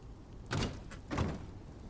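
A locked door in the video game Days Gone rattles twice as it is tried, two short broadband clatters about half a second apart, fairly close, with no talking.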